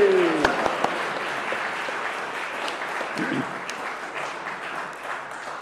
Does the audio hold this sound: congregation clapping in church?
yes